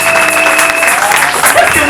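A church congregation claps and cheers together in a loud, dense burst of applause lasting a couple of seconds, with voices mixed into the noise.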